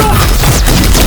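A handheld autocannon fires in an animated sci-fi battle, a dense, loud burst of heavy booming shots merging into one continuous roar over about a second.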